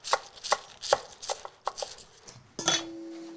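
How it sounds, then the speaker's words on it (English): A knife chops lacinato kale on a cutting board in a series of crisp, close knocks, fairly evenly spaced and then quickening, ending with a clatter and a faint ringing tone of metal or glass. "I'm gonna finish chopping this."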